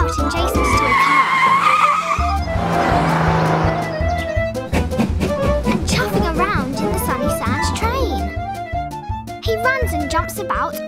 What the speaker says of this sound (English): He loves zooming about in Jason's toy car.